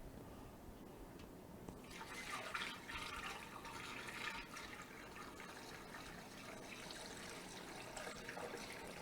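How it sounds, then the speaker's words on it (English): Hot black IPA wort is poured through a funnel and strainer for a one-gallon homebrew batch, making a steady splashing, trickling rush of liquid that swells after a quiet start and continues without talk. "we're going to do our best to pour this in here without making a huge mess"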